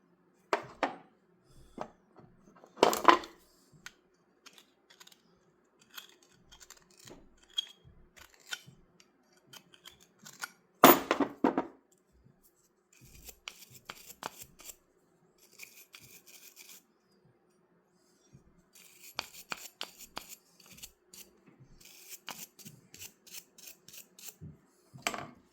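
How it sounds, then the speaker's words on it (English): Scraping material out on a flat car during the overhaul of car 105, heard as bursts of close, gritty rasping strokes, several spaced groups with brief pauses between them, loud at times and with no talk. "Scrape that out just a little bit."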